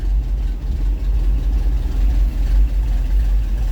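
A 1981 Chevy engine fitted with new dual exhaust in place of a single pipe idles steadily, giving a loud, continuous low rumble close by with no voices.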